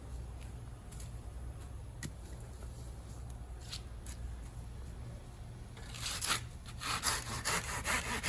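A hand saw cuts knobs off a moringa tree trunk outdoors, a steady rasping back-and-forth that grows louder and harsher toward the end, with a constant low hum beneath.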